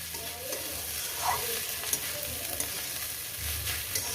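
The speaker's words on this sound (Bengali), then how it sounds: "এভাবে মানে তিন চার মিনিট এটাকে আমি ভেজে নেব" Chicken being fried and stirred in a pan for chicken bharta, a steady close sizzle with repeated scraping stir strokes throughout, no talking.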